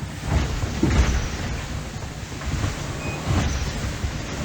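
Strong wind buffets a Vendée Globe racing sailboat as waves rush and slap the hull, a constant rough roar with gusty swells and low thuds, no one speaking.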